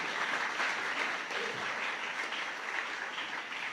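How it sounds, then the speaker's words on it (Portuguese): A group applauds at the close of a meeting, fairly faint but steady clapping from many hands lasting several seconds without a break. "Podem dar uma salva de palmas, faz favor."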